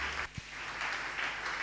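Church congregation clapping in praise of the Lord during a Sunday service, a soft, even wash of applause with a faint thump near the start.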